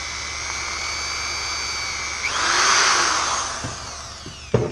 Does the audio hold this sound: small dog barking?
no